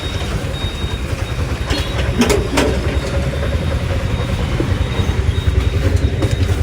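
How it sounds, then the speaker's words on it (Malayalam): An auto-rickshaw engine runs with a steady, loud, rumbling drone that holds throughout, close by and without talk. "അപ്പം ഇതാണ് നമ്മുടെ ഓട്ടോ എത്തി"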